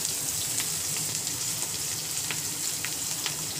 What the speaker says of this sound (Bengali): তারপর যেটা দেবো সেটা হচ্ছে কুচি কুচি করে রাখা পেঁয়াজ